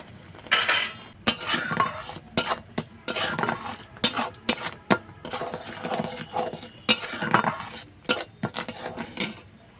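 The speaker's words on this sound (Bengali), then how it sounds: "এই যে ছোট একটা চামচের 1 চামচ আমি চিনি দিয়ে দিচ্ছি, মানে হাতা এটা" A metal ladle clinks and scrapes against a pot while sugar is added to a palm-fruit sweet mixture, giving a run of irregular close clatters and stirring knocks with short pauses between them.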